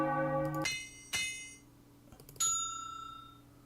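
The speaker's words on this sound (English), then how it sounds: "And then we play a bell." Bell and hammer sound effects in an RPG Maker game: a sustained chime fades, two sharp hammer-like clanks strike, then a bright bell ding rings out and decays, clean and close with no talk.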